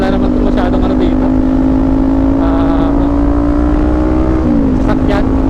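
A car accelerates on an open road near Villar City in Cavite, its engine drone steady and loud with a rising tone that drops briefly at a gear change.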